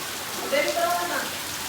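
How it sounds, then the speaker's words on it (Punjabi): Steady, heavy rain pours down outdoors, a dense continuous hiss close by with faint tonal sounds rising briefly in the middle. "ਮੀਂਹ ਤਾਂ ਖੜਕੇ ਪੈ ਰਿਹਾ ਖਾਸਾ ਪੈ ਗਿਆ"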